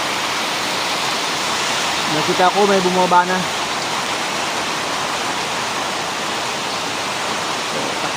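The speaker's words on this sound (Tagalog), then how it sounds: "Kasi biglang dumating yung malakas na ulan." Sudden heavy rain pours down on a goat farm, a dense continuous hiss that stays even throughout, with a brief spoken remark partway through.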